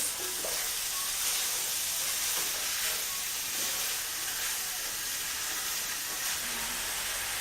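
Pork sears in a skillet with a steady, loud sizzle and hiss throughout, a few faint clinks now and then.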